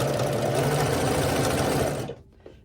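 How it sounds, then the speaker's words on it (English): Sewing machine chain piecing herringbone quilt rows: a steady, loud, continuous mechanical whir close by, stopping abruptly near the end and followed by a faint click. "And now I can take this final row and sew these together."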